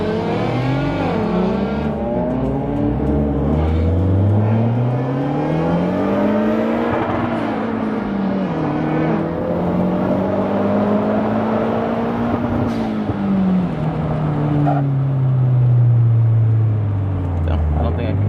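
A Mazdaspeed car accelerates hard while racing a Volkswagen, its engine pitch climbing and falling through gear changes, loud and close throughout, with occasional voices talking over it.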